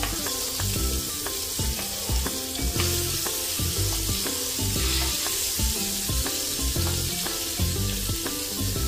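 Prawns coated in rice flour and a little gram flour shallow-fry to golden brown in hot oil, giving a loud, steady, crackling sizzle with dense popping throughout, close up and with no voices.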